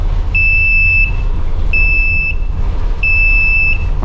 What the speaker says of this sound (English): Low oil pressure's going off.